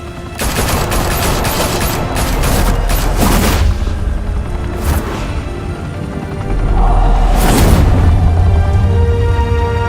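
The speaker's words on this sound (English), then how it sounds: "Now we only have to take one of you down. Open fire!" Gunfire in the Batman: The Telltale Series video game: a dense, loud fusillade of rapid shots and booming blasts that rolls on almost without a break, with a few heavier bursts standing out.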